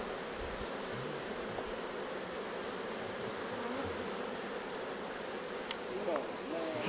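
Bees buzz in a steady, close swarm drone in Jamaica, a continuous insect hum that fills the whole stretch without a break, with faint scattered sounds around it.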